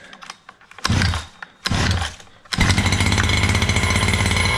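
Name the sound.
Redcat Rampage MT V3 1/5 scale RC truck engine running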